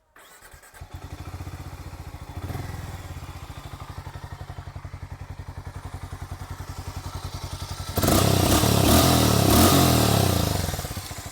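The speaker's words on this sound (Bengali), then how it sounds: "এটা হচ্ছে এক্সস্টের সাউন্ড।" A Harley-Davidson X440T motorcycle idling close by, a steady pulsing single-cylinder exhaust thump that swells louder when revved near the end; no talk.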